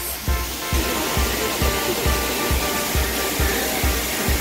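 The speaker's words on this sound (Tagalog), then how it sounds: "Dito na po tayo sa Scatter Falls." Scatter Falls at Ng Tung Chai gives a loud, continuous rush of falling water, with a steady low thumping pulse underneath and no voices.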